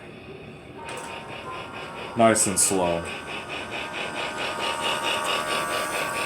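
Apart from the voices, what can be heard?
toy train running with chuffing noises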